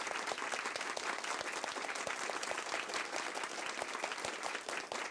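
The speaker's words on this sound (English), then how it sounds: "Everybody should be clapping it up for Ramla." Applause at a Women of Color breakfast event, dense, even clapping from a large crowd that continues steadily throughout at moderate, slightly distant loudness.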